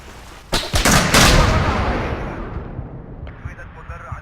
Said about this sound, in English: Some kind of laser rifle.